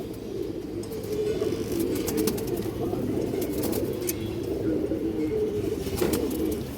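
A flock of caged pigeons at a market coos nonstop in a steady, overlapping low drone, close and even in level, with occasional light clicks and flutters.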